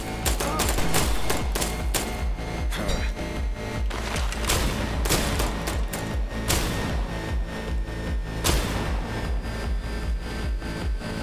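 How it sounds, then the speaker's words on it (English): Pistol gunfire in the video game I Am Your Beast rattles almost nonstop, with dense, loud, close shots crowding together and a few heavier cracks standing out over a busy game mix. "Oh, that's a pistol."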